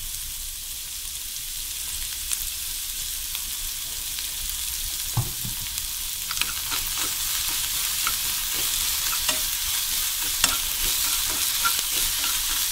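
Cabbage filling for a rolled omelette stir-fried with oyster sauce in a pan, a steady loud sizzle with scattered scraping clicks of the spatula against the pan, close and without voices.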